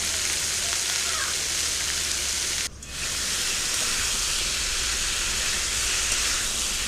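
Ridge gourd with salt and turmeric frying dry in a pan with no water, giving a loud, steady close-up sizzle that drops out briefly once and then carries on.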